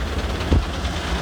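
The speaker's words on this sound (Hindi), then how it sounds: "बड़ी मशीनें यहाँ पे लगी हुई हैं ट्रैक्टरों पर" JCB excavator engines idle on tractors at a site where roughly six-foot masonry is being cleared, giving a steady low diesel rumble with one brief heavier thump midway.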